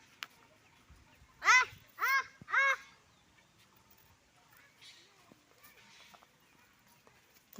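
A duck quacks three times in quick succession, loud and close, followed by quieter rustling and faint background sounds.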